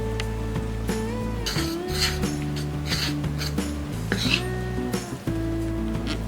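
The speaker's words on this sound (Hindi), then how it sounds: "अब हम इसमें बैटर में डालेंगे, मिक्स कर देते हैं।" Cooled vegetables are stirred into barnyard millet batter in a bowl, giving a steady wet scraping and rubbing with light clinks against the bowl over a continuous background, with no talking.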